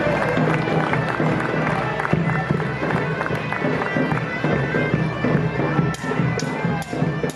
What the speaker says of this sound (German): Das ist ein Applaus.